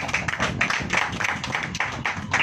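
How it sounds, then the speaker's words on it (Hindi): A congregation claps together during a church service, a loud and fairly even run of hand claps that carries on for the whole stretch. "ताली हो जाइए।"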